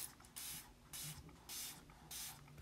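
A handheld spray bottle mists water in four short, even bursts of hiss, close and quiet, with faint handling noise between squirts.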